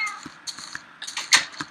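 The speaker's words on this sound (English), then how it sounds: "So those are the baby cats." Baby cats in Minecraft meow in a quick series of short, high, thin mews, several overlapping and fairly close, alone against quiet.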